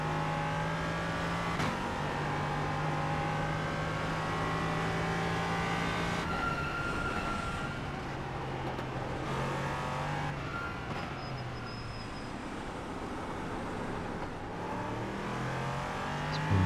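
A race car engine in the iRacing video game at a rain-soaked Suzuka circuit, droning steadily with rising and falling pitch through gear changes, continuous and fairly loud with no talk.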